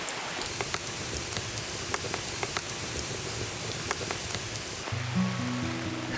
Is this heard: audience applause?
no